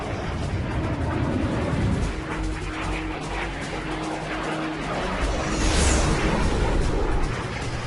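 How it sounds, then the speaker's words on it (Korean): Heavy cannon fire from a Me-163 Komet rocket fighter striking a B-17 bomber in a wartime air battle, a loud continuous roar of engines and blasts with rhythmic pounding bursts, dense and close throughout. "슈베르트의 중포가 다시 한번 나는 요새를 두들겼다"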